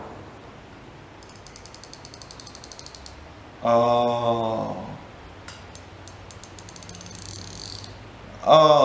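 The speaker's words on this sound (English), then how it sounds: "I get to feel the clicks of a 100-tooth ratchet" Rapid, fine clicking of a 100-tooth ratchet wrench in bursts, close and crisp, with a few louder rasping turns in between and a brief spoken word.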